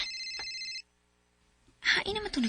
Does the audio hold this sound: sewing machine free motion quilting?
no